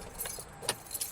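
Keys jangle softly in the ignition as a 2010–2015 Kia Soul is switched off, a few light metallic rattles close by with quiet car noise underneath.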